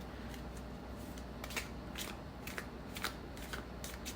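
Tarot cards being shuffled by hand, a steady run of crisp papery riffles and flicks in close, quiet surroundings, with no voices.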